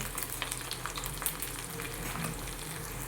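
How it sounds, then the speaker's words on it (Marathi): Potato French fries deep-fry in well-heated oil, a close, constant bubbling sizzle with faint crackles that stays steady for a few seconds without any speech. "1 मिनिटभर फ्राय झाल्यानंतर हे उलटवून घ्यायचे."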